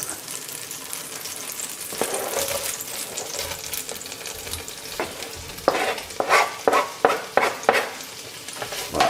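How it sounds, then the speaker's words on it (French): Onion, sausage and garlic sizzle and crackle steadily in butter in a hot pan, with occasional scraping stirs and clicks of a utensil toward the end. "On fait revenir l'oignon, la saucisse et l'ail."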